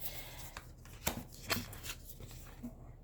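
A tarot deck is shuffled by hand, producing soft, irregular riffles and papery slaps, quiet and close, with no voices.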